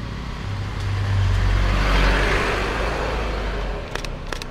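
A car or motorbike passes along a breezy roadside, its engine hum swelling to a peak midway and fading again, with wind rumble throughout and a few faint clicks near the end.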